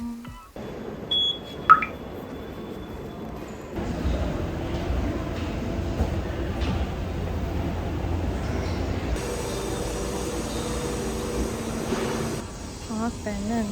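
Rumbling Seoul subway ride in a packed morning rush-hour car, a steady low roar of wheels and motor with short electronic beeps and chimes over it, and a brief sharp click near the start.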